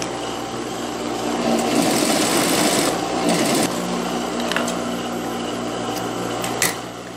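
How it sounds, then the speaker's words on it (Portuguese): A sewing machine runs a close topstitch around the neckline of a child's dress, its motor humming in a steady, fast stitching rhythm that picks up briefly and then settles, heard up close with no talking. "E agora eu vou passar aqui também a costurazinha de pesponto rente, fazendo o acabamento desse decote."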